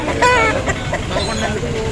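A rooster of over 3 kg, about 11 months old, clucks several times up close at a market, short throaty calls in quick succession with a brief louder squawk near the start.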